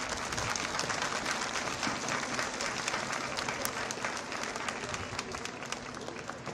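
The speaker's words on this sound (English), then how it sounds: "let's give your parents and your families a nice round of applause" Sustained applause from an audience of families at a middle school eighth grade recognition ceremony, a steady dense patter of many hands held at an even, moderately distant level throughout.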